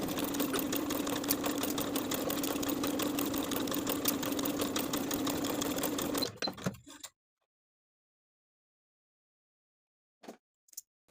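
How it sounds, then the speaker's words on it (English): A sewing machine stitches a dart in barrel leg pants with a steady, close, rapid whirring run for about six seconds, then stops abruptly, followed by silence and a couple of faint handling taps. "I'm going to sew my dart from the bottom back stitching to secure to the point"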